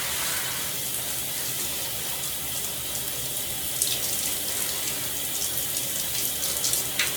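Shower water runs steadily and loudly throughout while a person washes, a dense hissing spray with faint splashes and knocks near the end and no voices.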